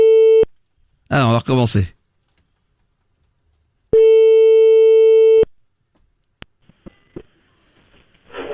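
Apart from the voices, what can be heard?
telephone busy signal while calling back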